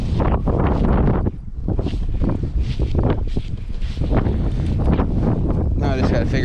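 Strong wind gusts buffet the microphone steadily during kayak fishing for smallmouth bass on Lake Erie, with a roaring low rumble throughout and a brief lull near the start, alongside faint water sounds.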